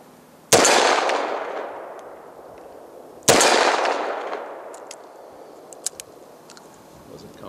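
Two booming shots from a 500 S&W Magnum revolver at an outdoor range, a few seconds apart, each a loud, close blast with a long rolling echo that fades away.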